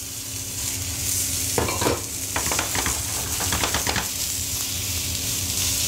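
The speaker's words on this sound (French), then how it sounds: "nous allons faire revenir les pommes avec le sucre" Steady sizzling of apples frying with sugar in a pan, with a burst of crackling and stirring scrapes in the middle, no voices.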